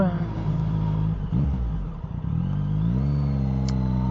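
A tractor engine passes on a country road during haymaking, heard from a motorcycle as a steady low rumble under constant wind and engine noise, with a brief speaking voice partway through.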